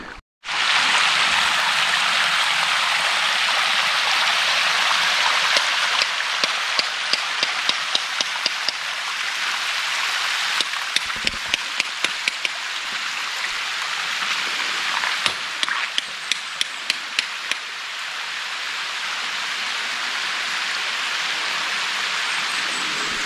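A river stream flows in a steady broadband rush, close and continuous, with occasional faint knocks or taps scattered through the water noise.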